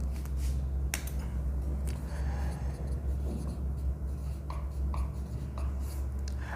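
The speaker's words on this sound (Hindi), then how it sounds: "साफ सा लिख लो।" Pen or chalk writing by hand, scratchy strokes with occasional sharp taps over a steady low hum, faint and continuous with no voice.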